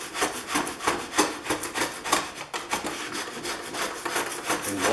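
A Stanley 444 dovetail plane cuts wood in short, rapid strokes, a steady run of scraping, rasping bursts close up with no talk.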